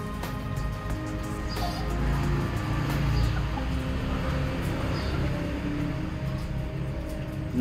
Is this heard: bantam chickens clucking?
yes